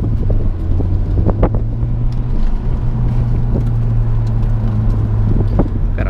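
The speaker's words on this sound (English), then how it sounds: "You hear all that gravel?" A Honda Civic Type R rolls over gravel, with a steady low road rumble and wind noise carrying an almost continuous gritty crunch of stones under the tires, loud and close throughout.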